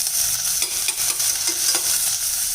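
Chopped onion and green chillies fry in oil in a pan, a bright steady hissing sizzle with soft stirring scrapes, close and continuous, no voices.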